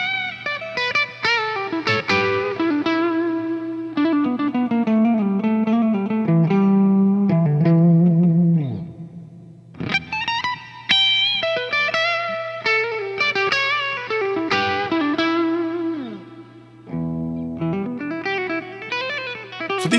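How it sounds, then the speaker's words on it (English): Electric guitar played through a Fender Dual Marine Layer reverb pedal, melodic single-note lines and chords with long, washy reverb tails and a steady low hum beneath, continuous and up close with no talking. "this very cool Fender dual layer marine reverb pedal"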